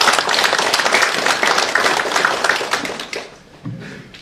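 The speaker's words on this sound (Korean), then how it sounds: "참석은 안 하셨지만 감사하다는 의미의 박수 한번 부탁드리겠습니다." Audience applause at a Korean gathering of the World Green Climate Association: dense, steady clapping from a crowd that fades out near the end, followed by a brief low voice.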